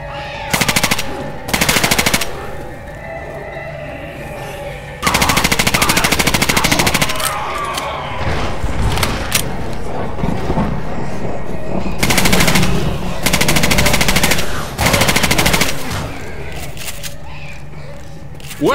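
Automatic gunfire in the zombie shooter Left 4 Dead 2 comes in loud, sustained rapid bursts with short pauses, close and dominant, mixed with game noise and occasional shouted voices.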